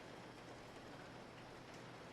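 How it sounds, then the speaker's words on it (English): Steady, dense rain pours outside a train in the Resident Evil Zero video game, a constant hiss of falling water that fills the scene evenly with no voices over it. "The rain outside is quickly turning into a downpour."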